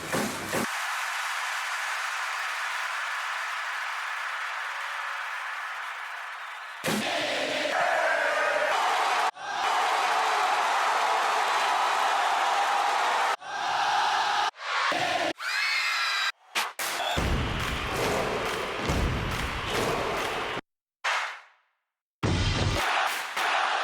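Big stadium crowd noise sound effect, a roaring wash of cheering and shouting in long sustained bursts, cut abruptly between several loud segments with brief silent gaps.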